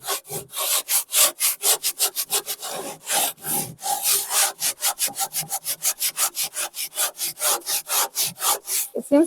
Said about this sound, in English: just give it a good sand